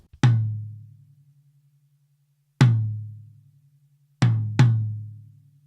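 Four close-miked rack tom hits ring out with a resonant, decaying boom, the last two struck in quick succession, with silence between.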